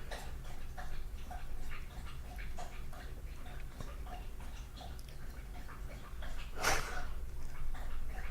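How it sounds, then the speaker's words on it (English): A dog laps up water nearby with a quiet, rapid rhythmic tick of tongue strokes running steadily throughout, with a brief louder splash or snort near the end. "My dog's over there lapping up some water"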